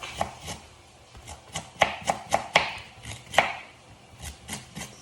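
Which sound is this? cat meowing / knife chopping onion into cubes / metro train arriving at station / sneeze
knife chopping onion into cubes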